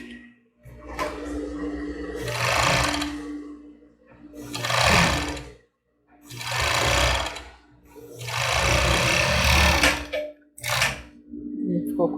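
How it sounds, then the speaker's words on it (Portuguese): An overlock sewing machine stitches and trims the edge of a seam on a cropped top, running in four or five loud bursts with short pauses between them. "Agora a gente vai lá para overlock, né? Que esse aqui eu fiz para mostrar. Lá eu vou até passar novamente, que já passa e já corta."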